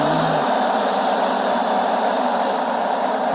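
Steady, loud airplane engine drone from the Infinite Flight multiplayer flight simulator, a constant broadband roar that holds evenly throughout with no talk over it.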